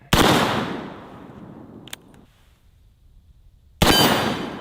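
A cap and ball revolver fires a loud close shot that rings off a steel target and decays slowly, followed by a faint click, quiet, then a second sharp blast near the end.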